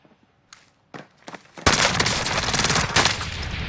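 Online shooter gunfire in a hangar, a few scattered sharp shots followed by a sudden sustained loud burst of rapid automatic fire continuing to the end.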